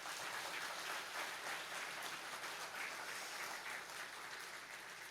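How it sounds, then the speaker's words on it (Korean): A Sunday worship congregation gives a hearty round of applause of encouragement for the parents, continuous dense clapping from many hands, somewhat distant and soft but steady from start to finish. "우리 힘찬 격려의 박수 한번 보내겠습니다"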